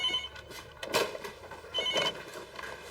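A telephone rings in short repeated bursts of bell-like trilling, moderately faint in a quiet room, with no voices over it.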